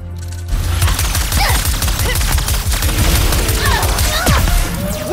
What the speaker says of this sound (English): See how this new thing works, the bomb-brator